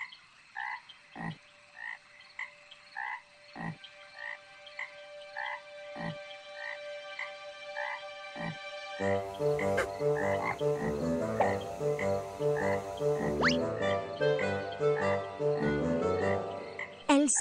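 A children's song about a toad plays with rhythmic croak-like sounds, first as sparse, evenly spaced croaks over a sustained tone, then a fuller band of music with vocals and steady beats joins in.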